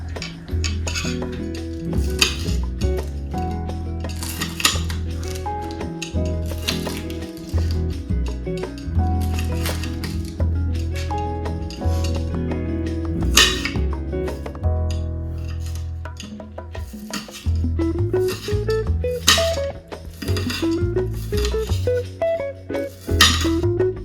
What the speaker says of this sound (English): I'll be chopping up these green onion